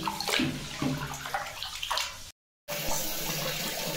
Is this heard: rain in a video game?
no